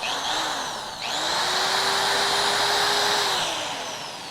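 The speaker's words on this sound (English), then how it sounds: "Drill." Power drill whirring at high speed, a brief dip and restart near the one-second mark, then a steady whine that winds down at the end, close and loud with no talking.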